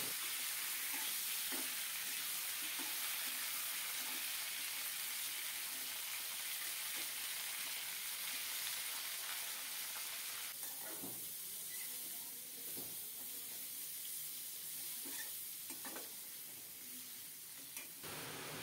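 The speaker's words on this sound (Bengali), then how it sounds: "এখন ভালোভাবে নেড়ে চেড়ে কাঁকরোলগুলো কষিয়ে নেব।" Spiny gourd pieces stir-fried with salt in a pan, a continuous soft sizzle with scraping stir strokes growing more frequent and distinct toward the end, no talking over it.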